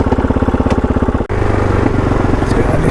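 A KOVE 450 Rally adventure motorcycle runs loud and close with a steady, pulsing single-cylinder thrum, then pulls away, the engine note rising and roaring under load after a brief break in the sound.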